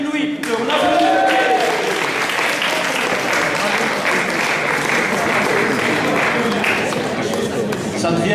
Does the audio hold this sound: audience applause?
yes